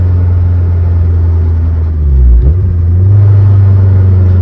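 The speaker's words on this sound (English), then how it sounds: "Fucking clutch is so loud" Mazdaspeed 3 with a loud clutch, engine rumbling heavily from inside the car, a brief dip as revs drop then rise again, steady and close without talk.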